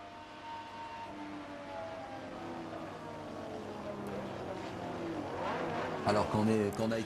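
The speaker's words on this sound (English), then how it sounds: "Jacques was driving a Ligier Matra at the time with its 12-cylinder engine" A Ligier Matra Formula 1 car with a 12-cylinder engine racing at Monza: a high, rising engine whine climbs and swells toward the end over a steady background drone, with a voice likely speaking over it.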